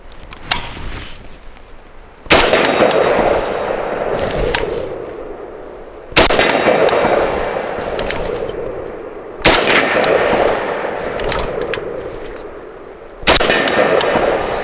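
Pistol shots ring out on a shooting range in four loud, sharp reports spaced a few seconds apart, each followed by a long echoing decay and faint outdoor background noise between them.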